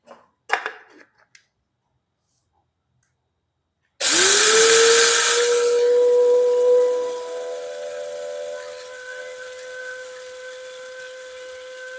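A cheap ₹350 mini grinder starts after a few seconds of near silence and light handling, running with a loud, high-pitched motor whine and a harsh rattling, hissing grind that settles into a steady, slightly quieter hum.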